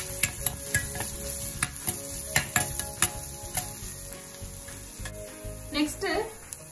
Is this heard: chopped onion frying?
yes